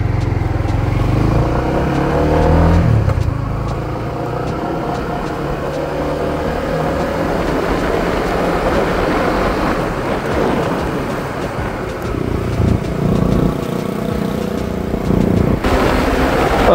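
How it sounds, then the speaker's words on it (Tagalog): A motorcycle is test ridden after a chain slack and clutch lever free play adjustment, its engine revving and droning loudly nearby with shifting pitch and gear changes under wind buffeting. "Kaya iti-test ride ko muna to."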